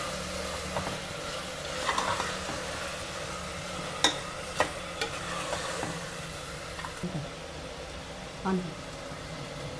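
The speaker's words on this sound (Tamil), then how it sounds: "இஞ்சி பூண்டு பேஸ்ட்டு பச்சை வாடை போகிற வரைக்கும் நல்லா வதக்கலாங்க." Ginger garlic paste sautéing in oil and ghee for mint biryani, a soft steady sizzle with occasional stirring scrapes of a spoon against the pan, under a voice talking.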